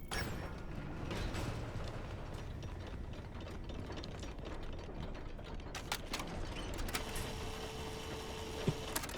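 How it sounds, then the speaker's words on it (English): Video-game elevator repair machinery grinds and ratchets continuously, with clicking gear and pawl mechanisms, metallic creaks and a steady mechanical hum, fairly close with no talking. "Elevator repair."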